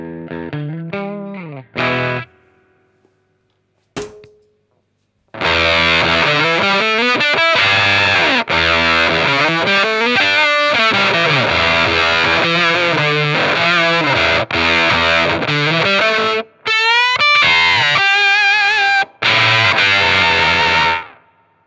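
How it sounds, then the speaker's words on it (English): An electric guitar played through the octave fuzz built into a Fender wallet, loud saturated buzzing riffs with bending notes and brief pauses, alone and up close. "the Fender wallet has an amazing octave fuzz built in"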